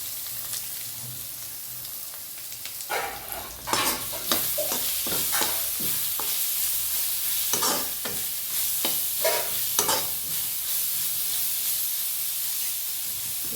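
Crushed garlic and ginger fry with grated coconut in a pan for chicken curry, a steady close sizzle broken by repeated scraping stirs and bursts of spitting as the aromatics hit the oil.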